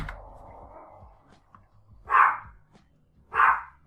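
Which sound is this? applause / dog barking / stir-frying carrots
dog barking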